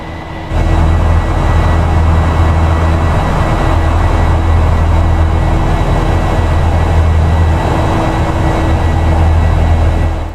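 Steady, loud jet engine roar from a Boeing 737-8HX climbing after takeoff in the X-Plane 11 flight simulator, a constant broadband drone with low hum that holds unchanged throughout.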